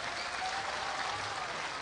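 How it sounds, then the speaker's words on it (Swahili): Audience applause at a public event in Kajiado, Kenya, welcoming a senator: a steady, dense wash of clapping, moderately distant, filling the moment without talk. "Pigeni makofi senator."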